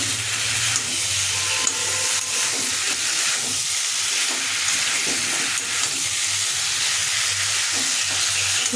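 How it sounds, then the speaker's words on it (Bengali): Spices frying with potato and pointed gourd in a pan for a Bengali prawn dalna, a steady close sizzle with intermittent stirring scrapes throughout, no voices. "আর দেবো একটু গরম মশলা দিয়ে নাড়াচাড়া করব মশলাটা কষিয়ে এসছে"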